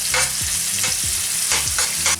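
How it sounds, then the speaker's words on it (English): Onions sizzle loudly in a pan while being stirred, a constant close hiss broken by several rhythmic scraping sweeps of a utensil against the metal, with no talking. "Keep on stirring the onion till the time it gets light brown"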